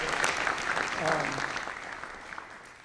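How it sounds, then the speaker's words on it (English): Audience applause at an HIV/AIDS summit keynote, a broad clapping texture that starts strong and slowly fades, with a voice briefly audible underneath. "So I think we should give him a round of applause"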